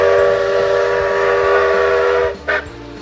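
Steam locomotive whistle blowing loud and close, a sustained chord-like tone with rumbling engine chuffs beneath, cutting off sharply before a brief second blast near the end.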